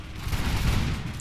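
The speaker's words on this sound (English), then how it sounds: "Nice volley there" A dense, rumbling musket volley from massed infantry in a Napoleon Total War battle, heard as a brief, distant-sounding roll of overlapping shots.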